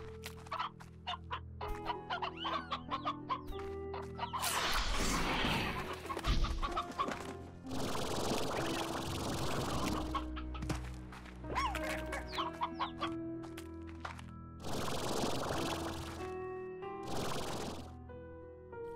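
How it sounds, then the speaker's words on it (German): Chickens clucking in Slime Rancher, with repeated short clucks and squawks from several birds in bursts and lulls, fairly close, with nobody talking. "Hühner."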